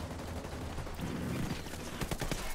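Rapid bursts of gunfire in the video game Ghost Recon Wildlands crackle over a dense, noisy background, growing sharper near the end.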